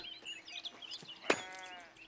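Sheep bleating at a sheep farm in the Foundation video game, one short quavering bleat standing out amid faint game ambience and scattered bird-like chirps.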